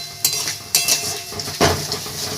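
Ginger-heavy spice paste being sautéed for a katla fish curry, a spoon scraping and clinking against the metal pan in a few sharp strokes over a steady low sizzle, close and fairly loud.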